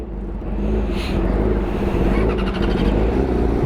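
A 2018 Yamaha R6 motorcycle with an Akrapovic exhaust runs nearby with a loud steady engine drone and a slight rise in pitch, under some background voices.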